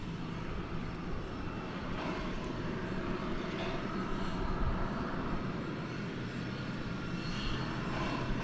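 An American Airlines plane takes off from runway 18 Left at DFW Airport in the evening, its engines giving a steady broadband roar that holds loud and constant throughout with no talk.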